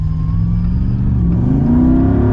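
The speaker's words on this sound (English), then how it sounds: "One more acceleration here." A Jeep Gladiator 392 V8 engine pulling under acceleration, a loud, close, steady low drone whose pitch climbs gradually over a couple of seconds, with no talk.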